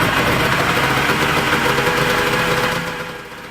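A 1983 Yamaha Enticer snowmobile engine runs steadily, a loud, close buzzing drone with a rough vibrating texture that fades somewhat in the final second.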